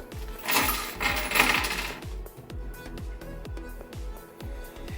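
Small plastic and metal parts from a wall-mounted GTV Practi Eco waste bin kit are handled close up, giving a run of light clicks and clacks, with a brief rustle at the start and no talk.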